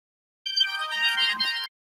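A mobile phone ringtone plays a bright electronic melody for just over a second, loud and close, starting and stopping abruptly against silence.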